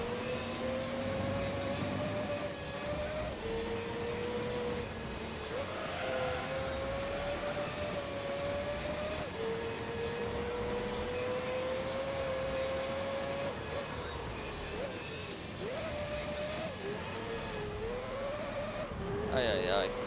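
Sustained whine of race car engines in Gran Turismo 3, a steady droning tone that rises and falls with shifts and throttle, running continuously throughout with a voice talking over it.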